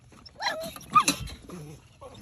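Young pitbull puppies whimper and yip in short, high cries close by, a few bursts over about two seconds with faint background shuffling.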